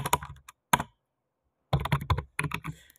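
Bursts of keystrokes on a computer keyboard while typing HTML paragraph tags, close and clear, in quick clusters separated by a pause of near silence.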